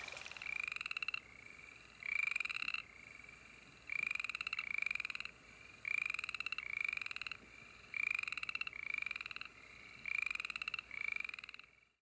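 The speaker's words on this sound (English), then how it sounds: "If you listen really carefully, you might be able to hear these frogs singing." Frogs call from a creek in springtime, repeated bursts of trilling croaks in a steady rhythm about every two seconds, loud and close over a quiet background, with no voices.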